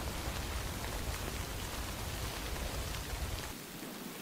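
Steady, dense rain hisses across the whole scene in the video game Death Stranding, a close, even wash that thins out abruptly near the end.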